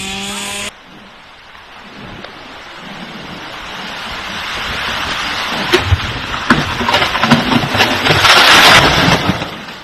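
Huge sea waves crash as Cyclone Montha makes landfall, a loud continuous roar of surf and wind that swells in intensity, with repeated heavy breakers near the end.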